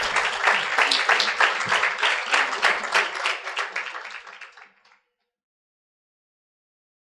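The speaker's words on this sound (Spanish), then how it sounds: "Un fuerte aplauso, por favor." Festival audience applauding a speaker onto the stage, a lively burst of many hands clapping for about five seconds before dying away into silence.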